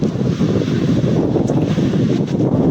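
Wind buffets the microphone at the seashore, a dense, loud low rumble with sea waves washing underneath, steady for the whole stretch with no voices.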